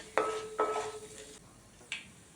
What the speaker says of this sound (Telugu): ఒక టేబుల్ స్పూన్ జీలకర్ర తాలింపు చిటపట అనేదాకా వేయించండి